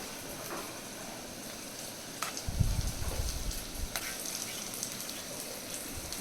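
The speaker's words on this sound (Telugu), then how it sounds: "ఇందాక ప్రిపేర్ చేసి పెట్టుకున్న కారం కూడా యాడ్ చేయాలి దాన్ని కొంచెం సేపు అలా తిప్పాలి" Chili powder and greens for a Telugu-style leafy green fry are stirred in a frying pan, giving a steady broadband sizzle with soft scraping of the spatula that swells midway, with no voices.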